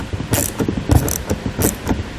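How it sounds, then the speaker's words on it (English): A T15 Torx bit backs out wheel well fasteners on a 2016 Chevrolet Colorado, giving close, rapid ratcheting clicks and small creaks in an uneven, busy pattern. "So we're going to use that same T15 Torx bit. And we're going to pull all 6 of those fasteners out."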